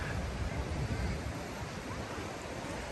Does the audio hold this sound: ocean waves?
yes